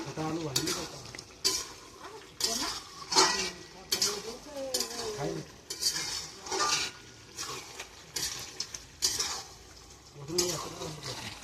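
Bengali chicken curry meat being stirred and fried down in a pan, with repeated rhythmic scraping strokes of a spoon over a steady sizzle, close and fairly loud.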